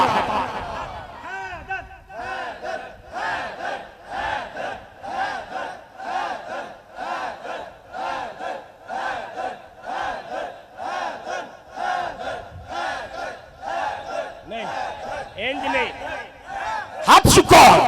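Large religious gathering chanting a two-syllable slogan in unison at a devotional sermon, the rhythmic call repeating steadily about once per second for the whole stretch, loud and massed, with a burst of noise at the end.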